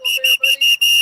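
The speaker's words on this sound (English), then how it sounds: "Is that your rape whistle there, buddy?" A safety whistle gives five short, sharp, shrill blasts in quick succession, loud and close, with no talking.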